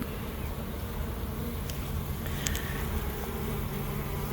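Honey bees hum around an overwintered upstairs-downstairs beehive, a dense, steady buzzing swarm close by with a few individual bees droning past.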